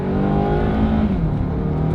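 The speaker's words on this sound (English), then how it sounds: "See how that turbo kicks in." A turbocharged four-cylinder car engine accelerates with a steady rising drone and whir, close and loud, no voices.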